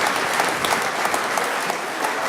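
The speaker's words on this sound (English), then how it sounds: "Please keep your applause going for all our candidates" Dense, steady applause fills a hall as an audience claps for mayoral candidates at a public forum, loud and continuous without any break.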